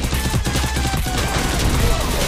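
Rapid bursts of gunfire from Garena Free Fire, a mobile battle royale shooter, crackle loudly and densely throughout a short firefight with repeated shots landing as headshots.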